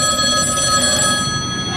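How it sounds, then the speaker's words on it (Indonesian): A telephone rings steadily and continuously during a comedy television sketch. No one speaks over the ringing. "Telepon bunyi. Telepon bunyi."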